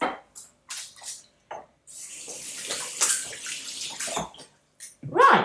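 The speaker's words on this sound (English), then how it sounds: "I'm just going to go wash my hands" Running tap water splashes in short bursts as hands are rubbed and rinsed under it, a steadier stream in the middle and quieter gaps between.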